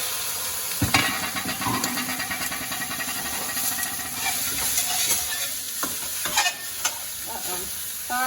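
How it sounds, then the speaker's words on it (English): Turkey Italian sausage sizzling loudly in a hot pan while being broken up and stirred, a constant close frying hiss with scraping and clinking of the utensil. "have the sausage in, and I'm just going to break it up and turn the heat down."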